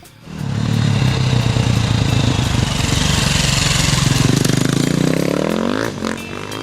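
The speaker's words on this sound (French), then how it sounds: "On peut alors attaquer la partie terre, et surtout la glisse à l'accélération" A motorcycle sliding on dirt under acceleration, the engine revving up loud and close into a steady roar with a rising pitch sweep near the end, gritty scraping texture beneath, no voices.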